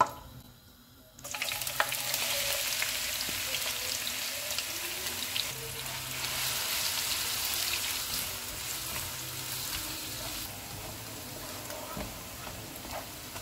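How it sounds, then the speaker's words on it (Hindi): Steady crackling sizzle of onions frying in a hot pan, continuous and fairly close, with faint stirring clatter and no talking. "प्याज डालेंगे, इनको गोल्डन फ्राई करेंगे।"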